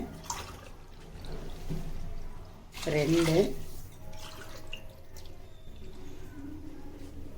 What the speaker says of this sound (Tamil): இப்போ இதுக்கு வந்து மூன்றரை டம்ளர் நான் தண்ணி வைக்க போகிறேன்